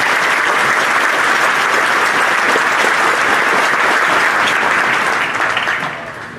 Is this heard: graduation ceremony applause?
yes